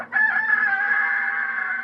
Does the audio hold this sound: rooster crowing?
yes